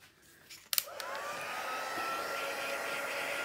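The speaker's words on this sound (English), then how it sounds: "Just heat the gun up." A heat gun is switched on with a sharp click to melt embossing powder on vellum, then blows a steady, fairly loud whirring roar that holds to the end.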